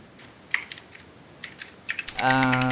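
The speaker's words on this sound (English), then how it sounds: "Whoever is typing, could you..." Someone types on a computer keyboard, light scattered key clicks at an uneven pace, faint and close, before a voice begins talking near the end.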